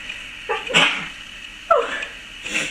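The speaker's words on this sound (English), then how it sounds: "excuse me, I have to sneeze." Two or three short, sharp sneeze bursts sound close in a quiet kitchen, separated by brief pauses, each an abrupt explosive huff with a voiced edge.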